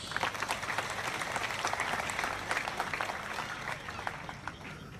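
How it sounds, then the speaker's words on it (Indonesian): A crowd claps steadily for several seconds at a church revival service, a dense, even wash of applause that slowly fades a little toward the end. "Tepuk tangan buat Tuhan Yesus"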